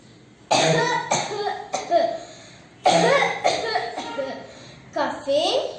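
A child coughs in a series of sharp, loud bursts with short pauses between them, close to the microphone, as part of a school performance about pollution.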